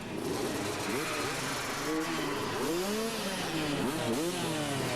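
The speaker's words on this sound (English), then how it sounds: "Okay, they start revving the engines now." Supercross motorcycles at the start line of the 1996 Denver Supercross rev their engines, with wavering, rising and falling pitches from several bikes blending into a continuous roar under crowd noise.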